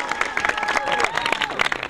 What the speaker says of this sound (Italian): l'applauso tutto per te, spontaneo